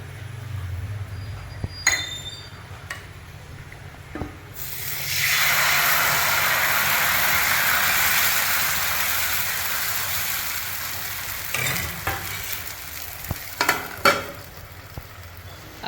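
Dosa batter poured onto a hot pan sets off a loud, sustained sizzle and hiss that slowly fades. A few metallic clinks and knocks come before and after, close by with no talk.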